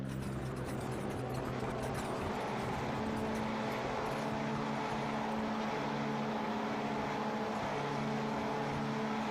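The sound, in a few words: race car engines revving at rallycross start, iRacing video game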